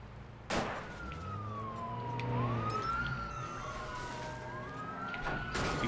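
A police siren wails in a chase in the video game Watch Dogs, its pitch sweeping slowly up and down over engine rumble, loud and steady throughout, with sharp hits at the start and end.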